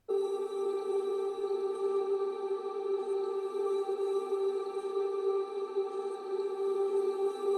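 A sustained synth pad built from a one-shot sample repeated four times, stretched out and reversed, holds a steady, droning chord with shimmering upper tones, even and unbroken from start to finish with no voices.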